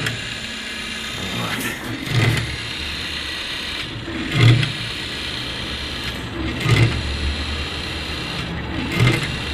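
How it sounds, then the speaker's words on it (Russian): Motor with gearbox driving a PCB etching machine, a steady mechanical whirr with regular louder surges roughly every two and a half seconds, running close by. "Там стоит двигатель с редуктором."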